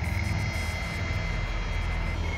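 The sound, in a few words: Gulfstream G450 jet aircraft arriving at airport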